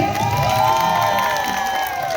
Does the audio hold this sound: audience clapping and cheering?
yes